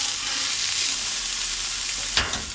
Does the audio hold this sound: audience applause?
no